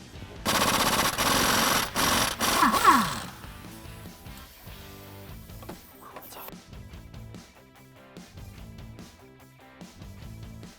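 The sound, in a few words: impact wrench loosening 24mm crank pulley bolt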